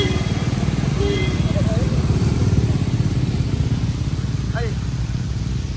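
A motorcycle engine rumbles steadily close by, its low throb continuous while people talk over it.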